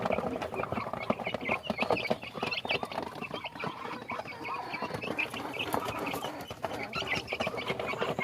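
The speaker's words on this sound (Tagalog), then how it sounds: "Mga alaga natin dito sa brooder, napakalalakas kumain." Chicks in a brooder eating, with a busy, constant mix of clucks, peeps and pecking patter nearby and no talk.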